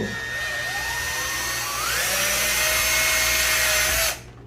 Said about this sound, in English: Then you drill down through the screw hole, making it big enough for the rivet to fit in.